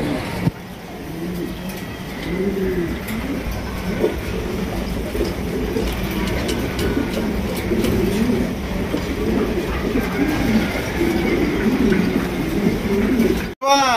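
Pigeons coo steadily and repeatedly at a pigeon sale, a dense overlapping chorus of low throaty calls close by, with faint crowd murmur beneath.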